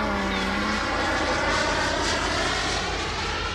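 A Freewing B-2 RC model jet flies steadily overhead at Kings Canyon, a loud continuous engine roar climbing back to altitude, with no talk over it.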